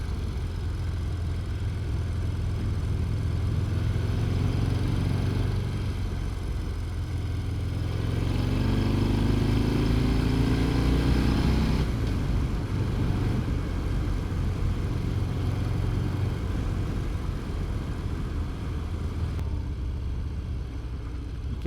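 A 2018 Harley-Davidson Fat Bob with the 114 engine rumbles steadily while cruising through Namadgi National Park, its low engine drone and wind roar continuous, rising briefly as it pulls harder midway.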